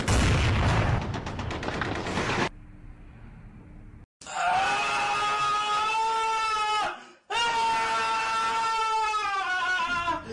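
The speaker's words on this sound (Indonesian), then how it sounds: "terdengar pula sebuah tembakan dari segala penjuru" Bursts of gunfire and explosions give way to loud, sustained whining tones, like incoming shells or sirens, with brief gaps between chaotic blasts.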